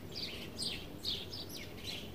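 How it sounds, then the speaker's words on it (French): Birds chirp and tweet in short repeated high calls over a soft, quiet outdoor background, faint and a little distant. "écoute le bruit des oiseaux"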